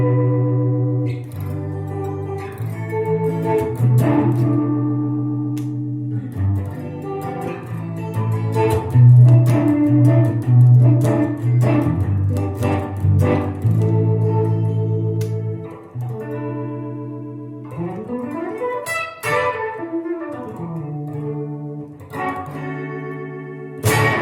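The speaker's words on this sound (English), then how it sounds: "the 60s bias trem with the vibrato setting works very good, and it sounds something like this" An electric guitar runs through a Line 6 HX Stomp's 60s Bias Trem in vibrato mode, playing loud, close chords and single notes with a warbling, pitch-wavering shimmer, alone without talk throughout.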